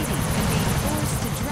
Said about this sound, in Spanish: ¡Pelea de helicópteros!